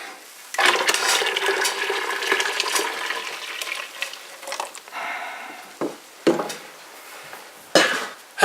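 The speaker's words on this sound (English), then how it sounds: "And just stir this up. Just get it mixed in." Gravy with green herbs is stirred in a pot, a close, sloshing, scraping swirl running several seconds, followed by a few sharp clinks and scrapes of the utensil against the pot.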